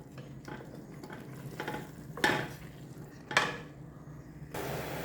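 Food browning in oil in a pan, with a low continuous sizzle broken by two sharp stirring scrapes and clinks against the pan, then a brighter hiss at the end.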